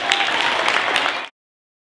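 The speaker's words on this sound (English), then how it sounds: "Give a round of applause for" Audience applause at a civil rights movement show, a dense burst of many hands clapping, loud and close, that cuts off abruptly after about a second.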